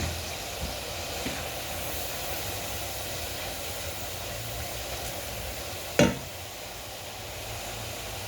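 Masala of ground coriander, cumin, dried chili powder and salt fries in oil in a pan for hilsa fish curry with green banana: a faint, steady hiss with one brief knock partway through.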